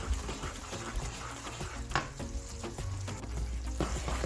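Sohan halwa mixture is stirred and roasted in a pan, a close, continuous sizzle broken by scraping spoon strokes and occasional knocks against the metal, with no voices.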